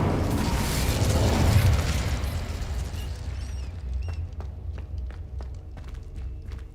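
A Confringo blasting spell explosion in Hogwarts Legacy, a heavy booming blast that swells and then fades into a low rumble, with scattered clicks and small pops trailing afterward.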